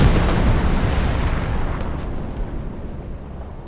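A deep, roaring satchel-charge blast against tanks in the video game Hell Let Loose, loud and sustained with a rumbling tail that slowly fades across the whole stretch.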